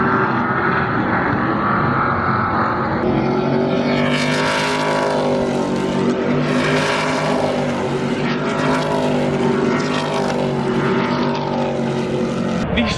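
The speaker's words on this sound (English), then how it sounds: "Truck race just started." Stadium Super Trucks race at Texas Motor Speedway, their engines roaring loud and continuous, with rising and falling passes as the trucks sweep by nearby.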